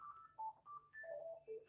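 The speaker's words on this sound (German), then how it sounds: "wer jetzt gedacht hat, bei ihm daheim klingelt das Telefon, es war meins" A phone rings in a room with a short run of electronic beeping tones, clear and fairly close, with no talking over it.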